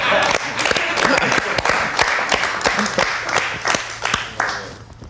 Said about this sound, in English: I'm gonna clap, because goddamn.